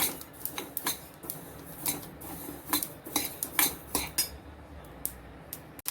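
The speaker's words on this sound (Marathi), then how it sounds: "तडतड आवाज यायला लागलेला आहे आपली पाच मिनटं झाली सतत हलवत राहायचं आपल्याला ह्याला" Flax seeds roast in a pan while being stirred, giving scattered dry clinks and scraping taps of a utensil against metal, irregular and fairly faint, with no talking.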